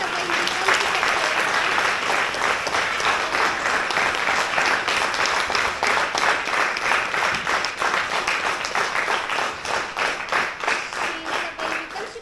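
Applause for young actors after a children's theatre performance, a dense, lively round of clapping from the audience that carries on steadily for several seconds and thins slightly toward the end, with faint voices mixed in.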